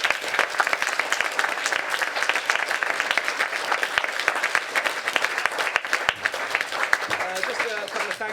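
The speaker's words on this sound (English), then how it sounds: "So just to give one more clap," Steady, dense clapping from a school audience after a Year 10 student play, continuous and moderately close throughout with no voices standing out.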